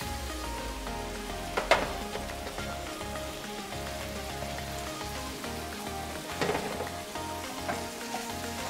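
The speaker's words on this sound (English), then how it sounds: "I'm gonna put some butter in to help the flavor come out" Butter sizzling and crackling steadily in a hot pan alongside browning food, with a couple of louder stirring or scraping bursts over the continuous fry.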